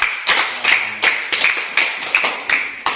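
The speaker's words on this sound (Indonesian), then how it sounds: "tepuk tangan dulu untuk kelompok" A small group claps in a loose, steady rhythm, about eight sharp bursts of hand claps spaced evenly, fairly close and clear with no talking.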